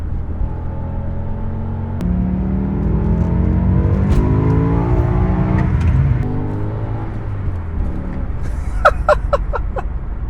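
A BMW M5 E60 with a manual gearbox and V10 engine pulls hard in second gear, its loud engine note climbing steadily in pitch under heavy road rumble, heard from inside the cabin. Near the end come some brief high clicks.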